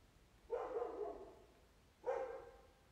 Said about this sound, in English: My dog is guarding me right now.